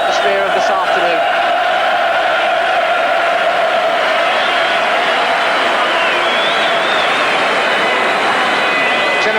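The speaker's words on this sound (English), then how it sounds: "Generous applause there from the crowd was for the New England manager, Bobby Robson, settling into his seat" Stadium crowd at a 1980s English league football match between Newcastle and QPR, giving a broad, continuous wash of applause and murmur at a distance.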